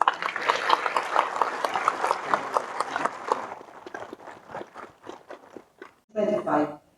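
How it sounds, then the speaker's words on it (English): A burst of crowd applause at a tribal film festival and carnival in Manipur, dense clapping that thins into scattered claps, followed by a brief louder rustle at the end. "May I request the invitees to give a warm round of applause."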